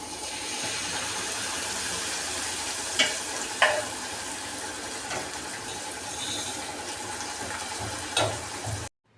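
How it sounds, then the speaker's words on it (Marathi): Dal is poured into a hot tempering of chilies and turmeric, raising a steady hiss of sizzling oil with a few sharp spatters and clinks as it is stirred. The pan is close and no one speaks. "तर आता डाळ याच्यामध्ये टाकते"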